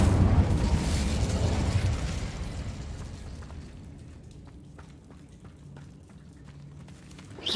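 A fiery Incendio spell blast in the Hogwarts Legacy video game, a loud broad roaring burst that swells at the start and then fades into a lingering crackling tail.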